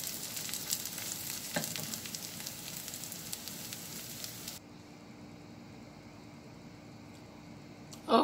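Shishito peppers sizzle loudly in a hot pan while being stirred, a crackling frying hiss that abruptly softens to a quieter simmer halfway through, ending with a short knock.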